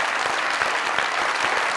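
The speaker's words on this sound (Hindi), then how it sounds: "ढेर सारी तालियों के साथ" A studio comedy-show audience claps loudly and continuously for a guest's entrance, dense, even applause with scattered sharper hand claps.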